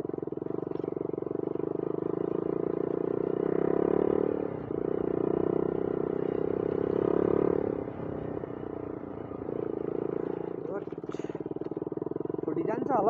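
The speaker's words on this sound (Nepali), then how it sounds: "पर बाइक जाँदैछ।" A motorcycle travels along a hill road between Ilam and Yasok bazar in Panchthar, its steady engine drone running through the whole stretch with small surges, heard from close by.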